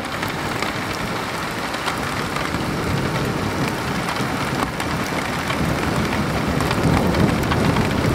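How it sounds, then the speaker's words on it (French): A moderate-to-strong thunderstorm with a shelf cloud in Amboise, with heavy rain pouring steadily onto surfaces and thunder rumbling without pause underneath, loud and close throughout. "Le tonnerre sans discontinu."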